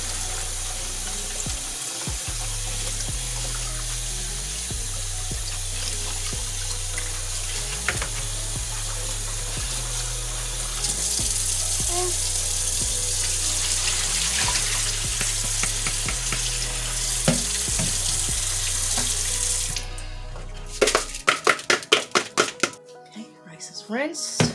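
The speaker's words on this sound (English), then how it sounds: "I just like to rinse it until it's the water comes out," Tap water runs steadily into a bowl or pot while rice is rinsed in a home kitchen, a continuous hiss that ends in a few sharp clatters and splashes.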